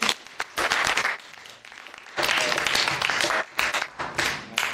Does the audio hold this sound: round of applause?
yes